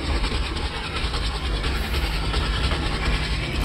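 A passenger express train in Microsoft Train Simulator (MSTS), the 12392 Shramjeevi Express from New Delhi to Rajgir, runs along the track with a steady rolling rumble and faint, regular clickety-clack from the wheels.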